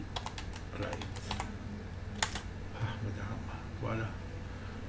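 Rapid clicking of keys being typed on a computer keyboard while entering a copyright notice in photo-editing software, close and steady in short bursts, with a low hum and someone speaking French quietly over it.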